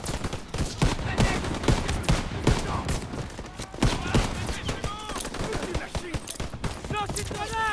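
Dense World War II combat gunfire from Call of Duty WWII, rapid bursts and rattling volleys loud and continuous, mixed with shouted voices in the background.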